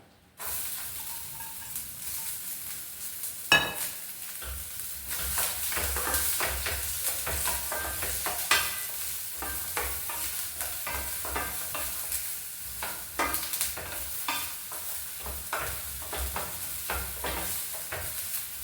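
Chopped ginger, green chilli and onion dropped into hot coconut oil, a sharp burst followed by a continuous hissing sizzle with scattered stirring scrapes, close and loud, no voices.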